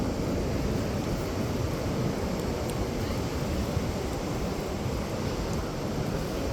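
Waves and wind at Rosarito Beach make a continuous low roar of surf mixed with buffeting wind noise on the microphone, steady throughout with no voices.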